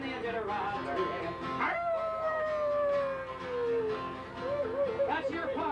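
A team of husky dogs howls in a recording studio during a song, long rising and falling wails layered together over the music and lasting nearly the whole stretch.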